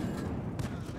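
Tank guns firing in World of Tanks, with a Bretagne Panther in action: a short, dense patch of booming shots and battle rumble, loud and close.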